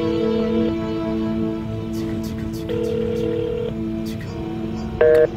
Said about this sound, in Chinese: 打电话给朋友